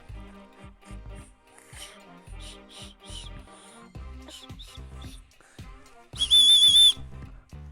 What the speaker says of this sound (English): Can you blow on the whistle?